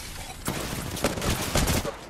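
Video game gunfire in a squad battle, several loud bursts of rapid shots starting after a short quiet moment and repeating close together.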